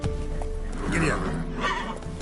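A horse whinnies in The Witcher 3, a loud, drawn-out neigh rising mid-clip over steady in-game ambience and hoofbeats, with a person talking over it.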